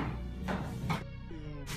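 Cat meowing in a few short cries, faint and somewhat muffled among background noise.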